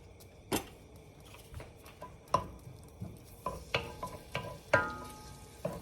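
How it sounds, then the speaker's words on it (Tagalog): Garlic toasts in a pan for adobo, a soft sizzle broken by sharp clinks and scrapes as the spoon stirs, with irregular knocks recurring every half second or so and no talking. "Ito-toast lang po natin ng konti ang garlic. Ibe-brown natin."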